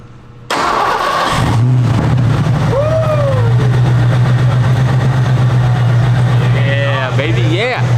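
A 1989 Ford Mustang V8 fires up and settles into a loud, steady, throaty idle close by, with people talking excitedly over the engine.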